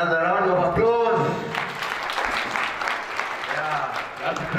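An audience at a livestreamed event breaks into a round of applause, a sustained wash of clapping from many hands that follows a voice and continues steadily for several seconds.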